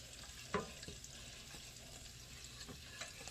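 A spoon clinks and scrapes as collard greens with brown sugar are stirred in a pot, a few faint, scattered knocks over a soft simmering hiss.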